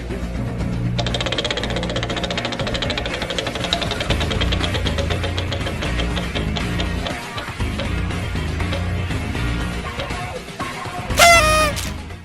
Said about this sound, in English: Let's find out what it's gonna be and spin that wheel.